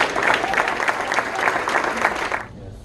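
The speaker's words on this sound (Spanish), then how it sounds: "Dale ese aplauso a Dios." Church congregation applauding during a Spanish-language sermon, a dense steady clapping from a crowd that runs for over two seconds and then cuts off abruptly.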